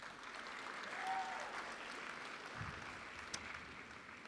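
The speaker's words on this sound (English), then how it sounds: "Can you give them all a round of applause, please?" Applause from an audience at a 2017 Eagle Feather graduation celebration, a steady wash of clapping that holds at moderate level throughout without any talk over it.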